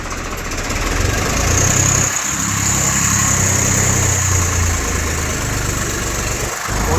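Swaraj 855 tractor engine holding a steady, loud idle-to-rev drone close by, with a brief dip and recovery partway through and no voices.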